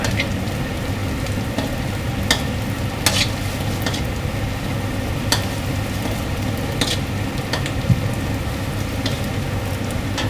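Chili stir-frying slowly for homemade Thai beef basil, a steady broad sizzle with repeated spatula scrapes and clinks against the pan, close and continuous.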